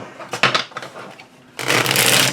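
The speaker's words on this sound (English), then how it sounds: "I love the way it shuffles in this deck." A deck of Ellis Tarot cards is shuffled by hand: a few crisp riffling bursts, then a longer dense flutter of cards close to the microphone, with no talking.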